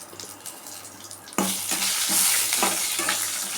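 A bunch of curry leaves hits hot oil in a pan with roasting peanuts, bursting into a sudden loud, crackling sizzle that keeps spitting and bubbling after a quieter stirring lead-in.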